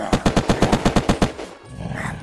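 Rapid automatic weapon in the survival game Unturned, about a dozen evenly spaced loud shots in a steady burst, then a faint rumbling lull afterward.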